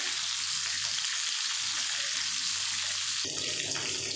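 Capsicum frying in a pan gives a steady, even sizzle throughout, with a sharper spattering burst near the end; no talking.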